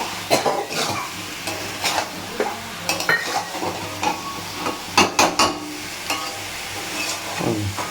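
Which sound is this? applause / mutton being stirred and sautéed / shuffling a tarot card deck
mutton being stirred and sautéed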